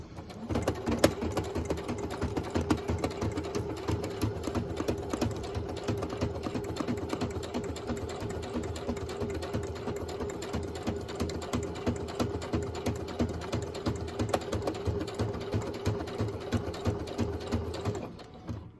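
A sewing machine stitching an envelope, a fast steady mechanical chatter that runs for well over fifteen seconds with a constant motor hum beneath, then stops abruptly.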